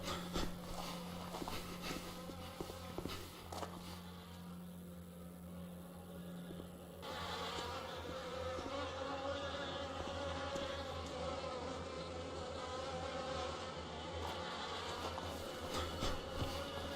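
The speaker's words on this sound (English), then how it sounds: "I thought they were bees." Continuous insect buzzing from video game bees, like a swarm droning steadily, fairly close, with a low hum underneath and no voices.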